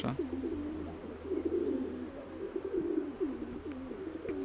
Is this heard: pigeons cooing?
yes